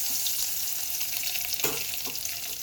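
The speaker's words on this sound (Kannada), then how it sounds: "ಬೇವಿನ ಎಲೆಗಳನ್ನು ಕಾಯಿಸುವುದು." Dried red chillies and curry leaves fry in hot oil with a loud, continuous hiss up close, and a brief stirring clatter midway, with no talking.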